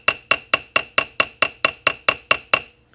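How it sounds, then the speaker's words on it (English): Light hammer tapping on a screwdriver seated in a mauled screw head on a Krag rifle, eleven crisp metallic ticks in a steady quick rhythm, close up and alone, stopping with a faint final tap. "So I tap on it, light hammer. I'm not killing this thing. I'm just tapping on it."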